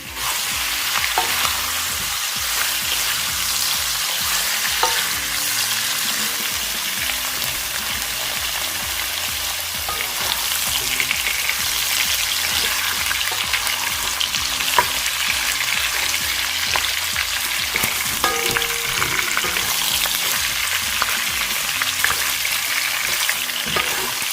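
Pork belly fries in a pan with a loud, steady sizzle and crackle that runs unbroken throughout, dotted with small pops and spatters.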